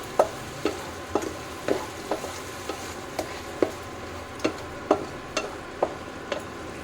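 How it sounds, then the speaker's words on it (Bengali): Masala paste, loosened with water from rinsing the mixer, frying in a pan with a steady low sizzle while a spatula scrapes through it in a regular rhythm of about a dozen sharp strokes, close up and with no voice. "মিক্সি ধুয়ে যে জলটা রেখেছিলাম সেই জলটা দিয়েই মশলাটা কষিয়ে নিচ্ছি"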